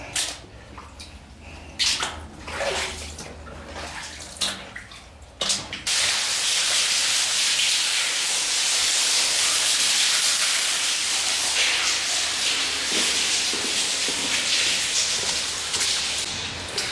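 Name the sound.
water leaking over tunnel wall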